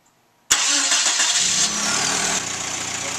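The engine of a 1995 Suzuki Sidekick, just set for timing and idle speed, catches abruptly, runs up briefly, then settles into a steady idle, close and loud after a near-silent start.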